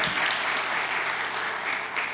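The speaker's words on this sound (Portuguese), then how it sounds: "vamos aplaudir a Jesus essa noite bem forte, fazer muito barulho para Ele" A church congregation applauds loudly and steadily in a dense, sustained wash of clapping that runs throughout without a break.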